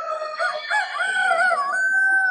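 Hens and roosters at a poultry show, crowing and clucking in a long, wavering call that stands alone and clear, close by and fairly loud, with no talk over it.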